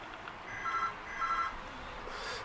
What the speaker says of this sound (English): There goes the phone again.